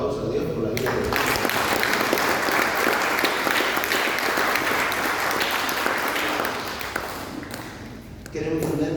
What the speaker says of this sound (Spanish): vamos a darle un fuerte aplauso a Dios por la vida de Dios.